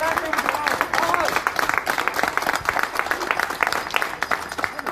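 Neighbours in San Pedro Sacatepéquez, San Marcos, clap steadily in a dense, continuous round of applause as a quarantine cordon comes down, with voices talking and calling out over the clapping.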